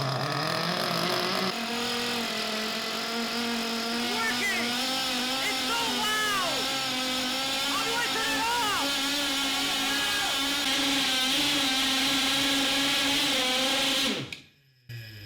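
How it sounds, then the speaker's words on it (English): A small two-stroke engine running on nitromethane, fitted to a homemade chainsword, screams at high revs after a pull start, a loud, buzzing whine that wavers up and down before cutting off abruptly, with voices underneath. "It's a 2-stroke engine that uses an exotic fuel called nitromethane, which is more powerful than gasoline"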